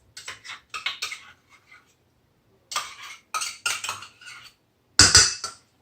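A small spatula scrapes Greek yogurt out of a measuring cup in several bursts of scraping and clicking against the cup, with pauses between the strokes and a final louder scrape.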